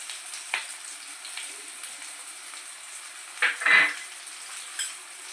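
Chicken pieces for chilli chicken fry in a pan with a steady, moderate sizzle, broken by a few brief stirring scrapes and clinks of a utensil.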